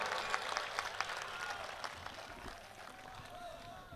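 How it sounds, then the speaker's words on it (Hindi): At a Banaras mushaira, a poetry-reading audience claps to welcome a humorous poet. The applause is quiet and diffuse, a soft patter of many hands heard at a distance with a few sharper claps, slowly tapering off. "भाई एक बार जोरदार तालियों से स्वागत कीजिए"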